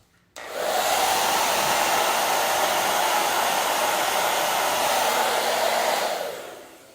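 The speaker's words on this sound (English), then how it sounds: "Let me dry that with my hairdryer first." A hair dryer blows steadily at close range for several seconds, a constant loud whoosh that switches on suddenly and winds down at the end.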